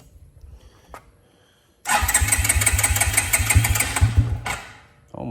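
A 2002 Suzuki King Quad 300 4x4 ATV cranked cold with the choke on, a loud rhythmic chugging burst of a few seconds that cuts off, then starts again at the very end.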